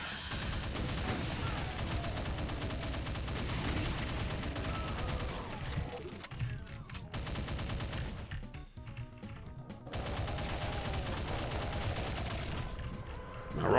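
Gunfire rattles nearly nonstop in the Doom shooter, modded with Complex Doom and Legendary addons, with loud dense automatic bursts and blasts filling the scene and two brief lulls, with game music underneath.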